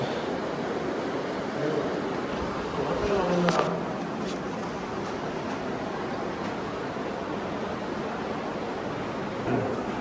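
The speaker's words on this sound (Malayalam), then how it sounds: "വെള്ളത്തിന്റെ ശബ്ദം കേൾക്കാം." Water flows through a cave at Wadi Bani Khalid in Oman, making a steady, even rushing wash that holds at one level throughout, with a brief swell near the middle.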